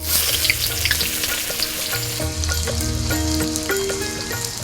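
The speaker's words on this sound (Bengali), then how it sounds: "আমার পেঁয়াজ ভাজা হয়ে গেছে" Steady, close sizzling of onions frying in hot oil, with occasional stirring clatter and crackles throughout.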